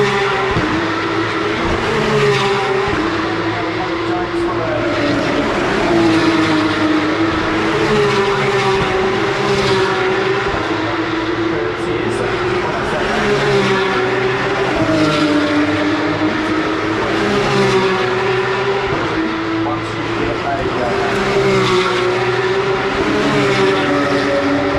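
V8 Supercars race cars on a circuit, their engines howling loud and close, with roaring, revving and shifting tones rising and falling as the cars pass. The engine noise is continuous and dominant throughout, with no voices.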